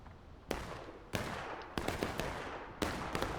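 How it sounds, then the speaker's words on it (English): Booming artillery fire in the Civil War game War of Rights, several heavy broadband blasts at irregular intervals, the first near 0.5 seconds and others following, each decaying into a rumbling battlefield din with no talk. "this is a bunch of artillery"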